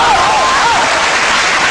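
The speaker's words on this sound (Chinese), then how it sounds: "看你们鼓掌我明白了" An audience claps for a storyteller in a steady, dense burst of applause that fills the whole moment, loud and close, with a voice faintly audible over it.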